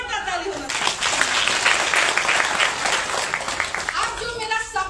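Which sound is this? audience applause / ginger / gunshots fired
audience applause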